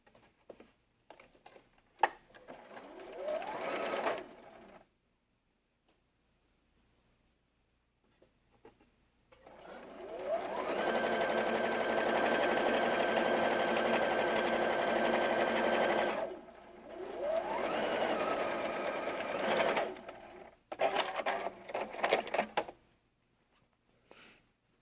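A sewing machine stitching a full seam on a red quilt block piece runs in several bursts: a short whirring run, a long steady drone of about six seconds, then two shorter runs, all close and with no talking.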